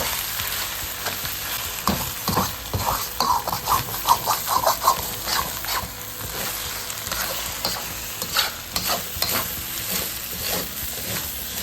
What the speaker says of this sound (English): We're going to stir ours up a bit to get more bottom surface